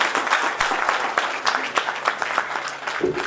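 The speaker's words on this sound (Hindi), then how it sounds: "बार तालियां दो।" Audience applause fills a hall at a Hindi poetry anthology launch, a dense, steady wash of many hands clapping close by, with no speech over it.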